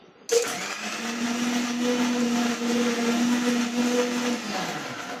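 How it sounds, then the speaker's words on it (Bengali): An electric grinder mincing meat for momo filling starts with a sharp burst, then runs as a loud, steady motor whine for about four seconds before winding down near the end. "আর আমাকে দিচ্ছে মাংসটা কিমা করতে"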